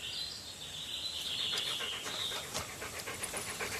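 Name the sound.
dogs panting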